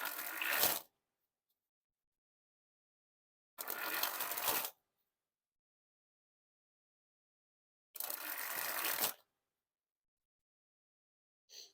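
A deck of playing cards is sprung from hand to hand three times, each spring a brief crisp fluttering rush lasting under a second, separated by long silences.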